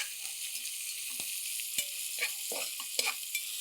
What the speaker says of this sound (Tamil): வெங்காயத்தை சேர்த்தாச்சு இது என்ன செய்ய போகிறோன்னா ஒரு அஞ்சுலேருந்து ஆறு நிமிஷம் நல்லா வதக்கி எடுத்துக்கலாம்